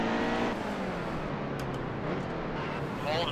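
Stock cars racing in the NASCAR Heat 2 video game on a road-course oval, a steady roar of engines with passing cars and revving layered throughout, loud and continuous.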